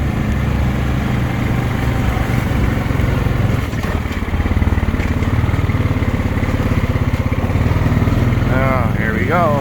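A 2020 Honda Rubicon 520 Deluxe ATV engine drones steadily and loudly while riding a trail in two-wheel drive, with a speaking voice heard near the end.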